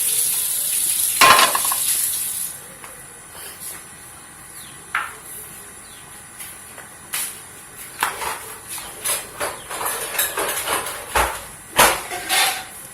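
Bitter melon stir-fries with egg in a hot wok, a steady hiss broken by sharp clatters and scraping taps that grow busier toward the end.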